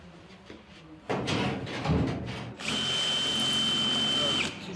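A power drill bores into a wall containing an iron rod, starting loud and close, then settling into a steady grinding whine as the bit meets the metal.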